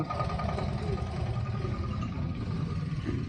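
A motorbike engine idles with a steady low hum in the parking area by the Harihareshwar temple on the Konkan coast, a constant close drone with faint voices nearby.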